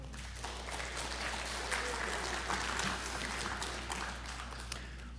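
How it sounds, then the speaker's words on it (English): Applause from the audience at a 2021 high school awards assembly, a steady, fairly faint wash of clapping that continues across the whole stretch with no clear breaks. "Our community, we need to give them a round of applause"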